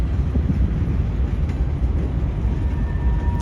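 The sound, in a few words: freight train cars moving in CSX Howell rail yard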